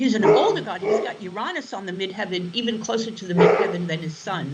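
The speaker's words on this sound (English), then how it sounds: "Sorry, that's my dog" A pet dog barks in short bursts close by, mixed in with someone talking steadily over it.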